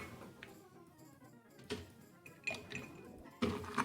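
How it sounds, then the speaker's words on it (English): Ice cubes clinking and rattling in a drink glass as a rye cocktail is stirred, a few sharp clinks among softer rattling, close and fairly quiet. "add your ice and stir"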